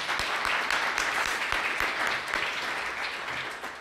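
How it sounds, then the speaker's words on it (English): An audience at an evening arts and culture celebration claps in sustained applause, a dense, even wash of many hands that carries on throughout and tapers slightly at the end. "I think a round of applause."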